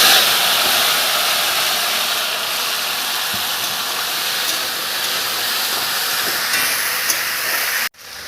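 Boiled jackfruit seeds hit hot oil tempered with black cumin, a loud continuous sizzling hiss that fades slightly over several seconds before cutting off abruptly near the end.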